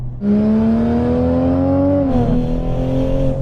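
A Toyota Supra GR MkV A90 engine accelerating, heard from close by. The tone rises steadily, dips briefly at a shift, then pulls again, loud and continuous with no talk over it.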